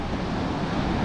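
Sea waves wash onto a beach in the morning, heard as a brief, loud, steady rush of surf that blends with wind noise and has no voices.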